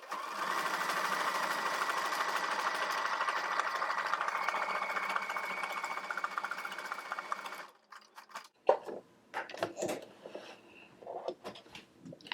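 Sewing machine stitching a tiny buttonhole on a denim jacket placket: a fast, steady mechanical whirring chatter up close for several seconds, then it stops and gives way to scattered clicks and handling noises.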